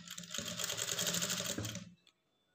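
An electric sewing machine stitches a lined blouse, running in one steady, rapid whirring burst for about two seconds before stopping abruptly into quiet.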